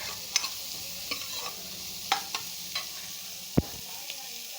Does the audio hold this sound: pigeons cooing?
no